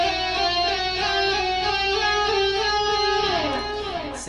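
Electric guitar tapping lick played slowly with pick tapping and wah, sustained legato notes sliding and stepping in pitch, steady and moderately quiet, with no talking.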